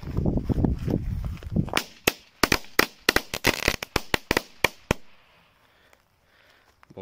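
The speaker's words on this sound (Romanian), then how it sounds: "Încă o floare de asta ca lumea cu efect și de crackling." A firework fountain crackles in a rapid string of sharp, loud bursting pops of uneven rhythm, coming after a stretch of fizzing hiss and fading into near silence, with no talking.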